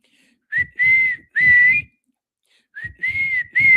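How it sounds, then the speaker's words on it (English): Someone whistles clear, sustained notes in short phrases, with a brief pause midway, close and loud. "I know I can whistle."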